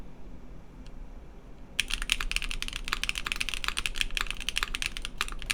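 Fast, continuous typing on an Atelier Magnus Slate Zero keyboard with uniform profile keycaps begins after a quiet start, a dense run of crisp close clacks and taps without pause.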